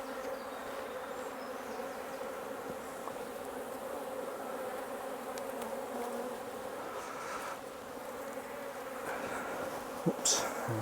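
Honeybees buzz around frames of comb during a nuc transfer, a dense, continuous hum close by, with a few soft knocks of handling near the end.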